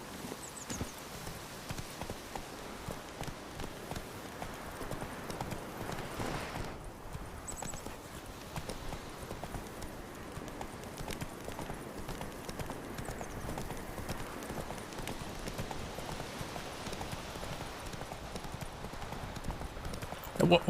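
Roach, the horse in The Witcher 3 video game, galloping with rapid rhythmic hoofbeats and a brief whinny, continuous and moderately loud under a player's occasional talking.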